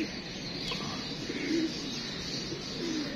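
Pigeons scattered all around coo softly in a couple of low, brief calls over a steady windy outdoor background.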